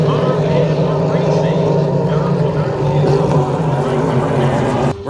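Pro Light class hydroplane racing boats roar at a Guntersville race, a loud continuous engine drone with a steady rumble heard from the shore, while a voice talks over it.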